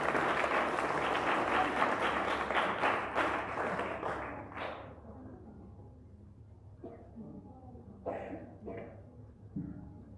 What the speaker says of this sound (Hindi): एक ताली तो होनी चाहिए इन बच्चों के लिए।